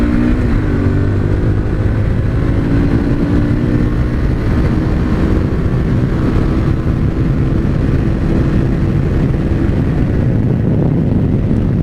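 A Harley-Davidson Street Rod 750 motorcycle being ridden, its engine a steady, loud, continuous drone that holds close and even throughout with no voices.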